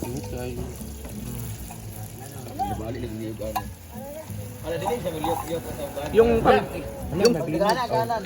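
Sardines and egg frying in a pan for a farm breakfast, a steady close sizzle with stirring and clinks of a utensil while people talk over it.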